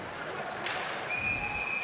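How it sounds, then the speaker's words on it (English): A referee's whistle blows for offside during a varsity boys' ice hockey game at a rink. It is a faint, thin, steady tone that lasts under a second over the low murmur of a crowd and the arena noise. "And we get a whistle for an offside"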